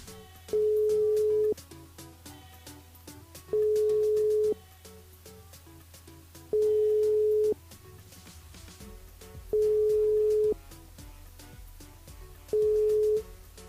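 Repeated telephone busy tone, five steady beeps about a second long at regular intervals, heard on a French radio call-in show as the host dials a listener back, over low studio hum and faint background music.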